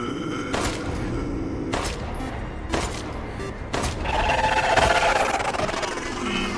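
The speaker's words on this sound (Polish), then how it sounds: "Cztery strzały i upadł." Four sharp gunshots ring out at even intervals in the video game Resident Evil Village: Shadows of Rose, with rumbling game ambience and no talking.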